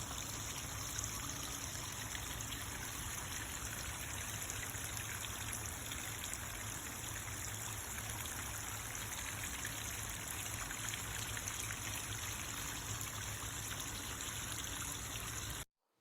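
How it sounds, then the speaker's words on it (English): A backyard waterfall built by hand flows in a constant, even rush and trickle of water, heard alone and moderately loud as playback from a recording, with no voices over it. "a waterfall that her husband built in the backyard"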